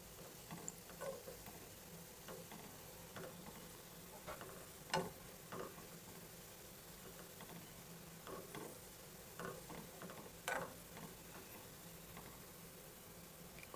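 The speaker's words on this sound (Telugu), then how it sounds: "గులాబ్ జాములు కాల్చుకోవడం స్లోగా కాల్చుకుంటూనే లోపల వరకు వేగి టేస్టీగా ఉంటాయి" Gulab jamun dumplings fry slowly in oil, a quiet steady sizzle with scattered soft pops and occasional faint stirring clicks, close but low in level.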